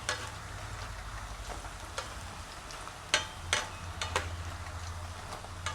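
A snack batter fries and bubbles in hot oil, keeping up a steady close sizzle with scattered crackles and pops and a low hum underneath.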